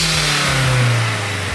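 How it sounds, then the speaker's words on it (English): A car engine revs hard with a Turbosmart blow-off valve fitted after fresh spark plugs, a loud close roar that swells and then eases off, with no talking. "Let's give it some revs."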